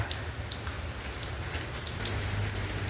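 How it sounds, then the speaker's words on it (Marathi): Rain falls steadily outdoors, a dense close patter of drops on surfaces that thickens slightly toward the end, with no voices. "पाऊस पडायला चालू झाला आहे."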